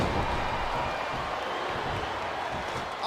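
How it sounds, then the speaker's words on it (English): A capacity crowd in a SmackDown wrestling video game arena, a dense, continuous roar of voices and clapping at steady volume with faint commentary underneath. "It sounds like this capacity crowd has something on their minds"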